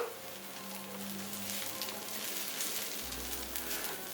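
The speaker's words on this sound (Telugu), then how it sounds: "దోశ మీద ఒక 1/2 టీ స్పూన్ ఆఫ్ ఆయిల్ వేసుకోవాలి" An onion-chili dosa fries on a hot pan after half a teaspoon of oil is added, giving a steady, soft, continuous sizzle under a low background hum.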